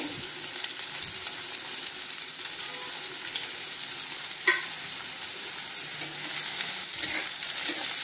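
Chopped onion sizzles and fries in hot oil in a pan for a village-style mutton rakti, with a steady close crackle and occasional stirring scrapes throughout.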